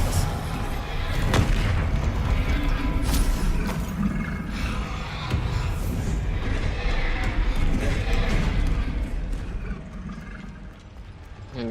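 Spell explosions from Bombarda and Confringo crash through a Hogwarts Legacy battle, heavy booms and blasts going off repeatedly over dense game noise, with a voice speaking now and then.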